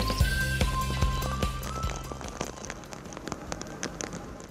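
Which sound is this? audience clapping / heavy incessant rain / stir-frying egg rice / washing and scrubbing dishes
heavy incessant rain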